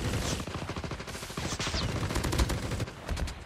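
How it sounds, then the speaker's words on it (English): Rapid automatic gunfire in Call of Duty Mobile rattles in dense bursts, loud and close, with sharp repeated shots filling the whole stretch and no talking. "I'm getting shot again."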